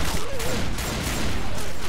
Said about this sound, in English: Quit shooting me.